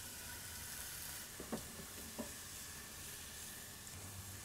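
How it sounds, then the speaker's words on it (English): Onions and jalapenos fry in hot oil at about 375 degrees, giving a steady, faint, even sizzle with a couple of soft clicks from stirring, and no talk. "Now let's get those onions and jalapenos going in the oil"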